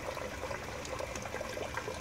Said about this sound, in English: that's pushing that water all the way down this pipe to over here and down to these bins